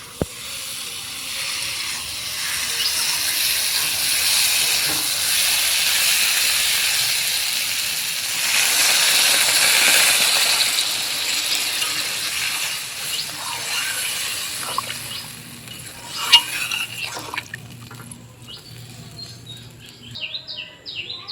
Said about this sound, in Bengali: মশলার সঙ্গে আলু পটলগুলো কষানো হয়ে গেছে এখন জল দিয়ে দেবো